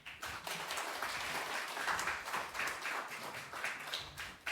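A church congregation at a Sunday service applauds as the pastor takes the pulpit, a dense, moderately distant clapping that holds steady for several seconds.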